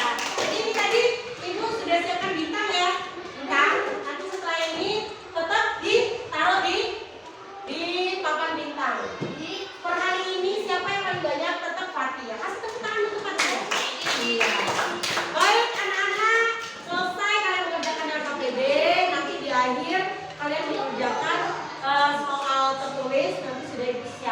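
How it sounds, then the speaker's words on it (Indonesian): Students in a classroom burst into a short round of hand clapping amid children's voices and a teacher talking, the applause rising briefly in the middle before talk continues. "Tepuk tangan untuk kita semua"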